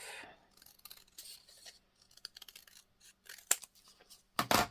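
Scissors cutting through a paper journal card, a series of quiet crisp snips and rustles with short pauses, ending in a louder final cut.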